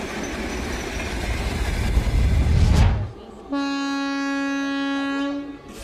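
A Soviet-era diesel freight locomotive at a train parade rumbles past loudly, then sounds a long, steady horn blast that holds for a couple of seconds before cutting off.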